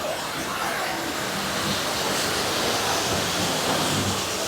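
A waterfall at Lalitta Cafe in Chiang Mai, Thailand, gives a steady, full rushing roar of falling water that stays at an even loudness, heard from nearby with no clear speech.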